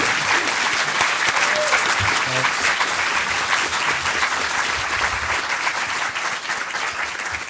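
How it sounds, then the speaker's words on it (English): A conference audience gives a sustained round of applause, dense steady clapping from a crowd that carries on throughout and tapers only slightly near the end, with no voices over it. "big round of applause"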